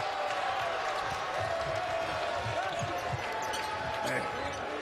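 Arena crowd noise swells steadily at a Grizzlies–Celtics NBA Summer League game after Tacko Fall's dunk, a continuous roar with a ball bouncing and an announcer talking over it.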